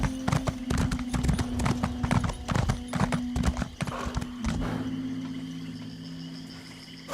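Rhythmic horse hooves in the video game Elder Scrolls Online clip-clopping steadily for several seconds over a steady hum, then stopping, leaving a quieter background drone.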